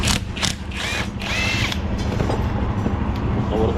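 Bursts of drilling and mechanical whirring from a power tool, likely a drill or driver, as a screw is tightened on a bicycle; several short near bursts with ratchet-like clicks over a steady low hum.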